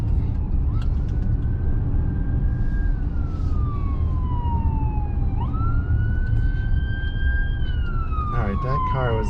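An ambulance siren wails in traffic on a drive between Port Gamble and Port Townsend, Washington, its tone sweeping up and down loudly and close over steady road and engine rumble.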